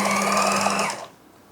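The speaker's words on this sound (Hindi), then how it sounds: "फिर आप अपनी सिलाई शुरू करें।" A sewing machine runs a steady, close whirring seam while stitching fabric piping, holding for about a second before stopping abruptly and leaving quiet.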